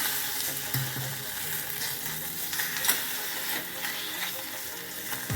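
Khoa roasting in a pan for karanji filling, giving a steady dry sizzle with faint scraping as it is stirred, continuous and close with no talk.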